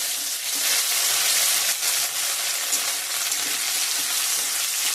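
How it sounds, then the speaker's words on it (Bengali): Whole dried red chilies, cumin seeds and bay leaf fry in hot oil, giving a steady, loud, close sizzle with light crackling and occasional stirring scrapes throughout, with no talking. "ভালো করে ভেজে নিব ভালো করে ভাজা হয়ে গেছে"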